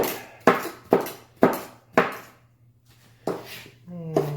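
A knife chops onion into small pieces on a cutting board, with about seven sharp, evenly spaced thuds close up, then a short pause and a final chop as a voice begins over it.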